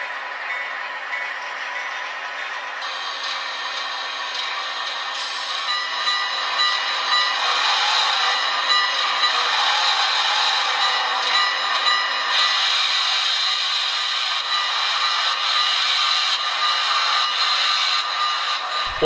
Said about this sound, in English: Here a GP9 diesel takes a spin on the turntable